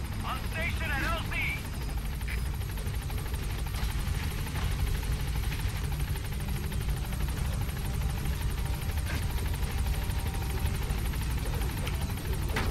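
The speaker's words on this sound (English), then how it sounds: "Yeah, get on the chopper." Helicopter in Metal Gear Solid V, a steady low rotor and engine drone running continuously at moderate level, with voices talking over it throughout.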